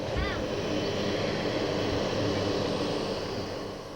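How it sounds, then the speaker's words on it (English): A small propeller aircraft passes overhead above a Peruvian forest lake, a loud steady engine drone that holds for several seconds and then begins to fade slightly. "my training was interrupted by small aircraft flying overhead"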